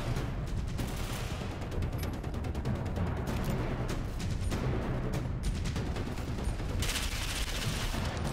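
Constant, dense gunfire from the video game Ghost Recon Phantoms: overlapping rapid shots and bursts that run without pause, loud and close.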